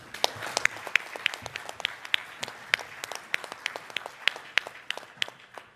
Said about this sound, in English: Please join me in a round of applause for J.D.